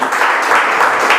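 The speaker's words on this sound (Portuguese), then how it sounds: "Aplaude a Jesus, irmão." Church congregation applauding during a worship service, a loud, dense burst of clapping that lasts about a second without letup.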